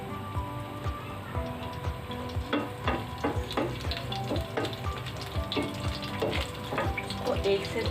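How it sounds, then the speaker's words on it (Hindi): Whole spices sizzle and crackle in hot oil for a mutton kaleji masala, a steady close frying hiss with scattered pops and stirring clinks throughout, no voices. "इसको 1 से 2 मिनट हम इसको अच्छे से तेल में जो है वो सौते करेंगे"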